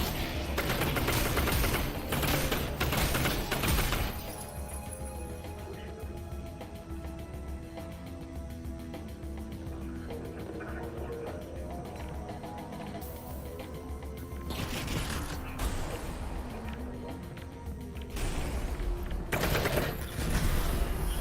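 Video game gunfight with rapid automatic fire, loud dense bursts at the start and again near the end, separated by a quieter stretch of lingering ringing tones.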